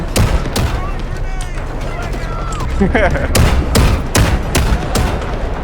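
Rapid bursts of gunfire in the shooter game Delta Force, loud and close, with sharp repeated cracks spread across the clip under excited shouting from players.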